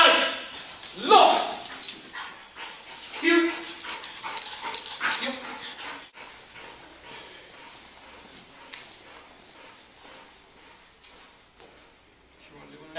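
Police dog in handler protection training, whimpering and barking in loud, excited bursts near the start, while a handler shouts commands over the fading noise.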